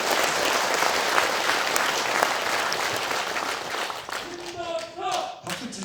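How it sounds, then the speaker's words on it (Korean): Audience applause at a county New Year greeting ceremony in Gochang, a dense steady clapping crowd that thins out near the end as a voice begins speaking. "박수 칠 때를 잘 하시네요."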